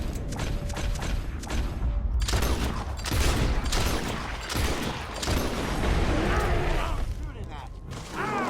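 Gunfire rattles in Red Dead Redemption 2, with bursts of rapid shots, mechanical clicks and creaks. It is loud and dense throughout, and voices speak over it.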